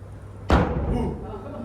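A single loud slap of a pool noodle against a surface, a sharp smacking crack that rings briefly and fades, heard close up.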